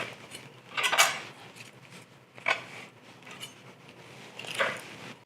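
Knife blade slicing tortillas into quarters for chips on a board, three distinct crisp cutting thumps with soft scraping between, close and fairly quiet with no talk.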